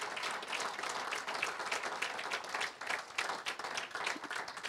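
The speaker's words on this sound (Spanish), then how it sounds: "Así vamos a dar un aplauso al Señor" Dense audience applause fills a church service, a steady wash of many hands clapping close and loud throughout, with a brief dip midway before it swells again.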